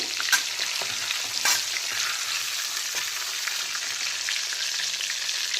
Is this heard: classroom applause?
no